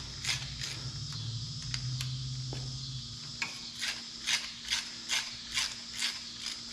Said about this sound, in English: let me go ahead and take the plugs out